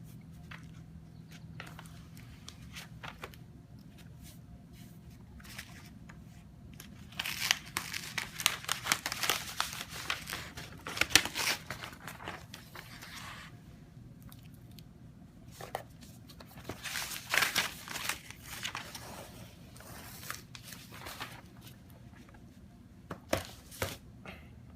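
Paper is peeled off a Plasti Dip coated MacBook Pro, making steady close crinkling and tearing rustles that swell in louder bursts and then ease off, with no talking.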